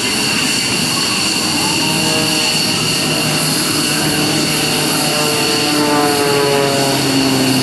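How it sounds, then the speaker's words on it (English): An aerobatic propeller airplane at a military air show passes overhead with a loud, sustained engine drone that shifts in pitch as it goes by, set against a busy outdoor background. "amazing maneuverable airplane"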